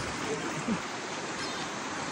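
A small mountain river, one of several to be crossed on foot during heavy rain, rushes in a steady broadband wash for the whole stretch, with a faint voice briefly audible under the flow.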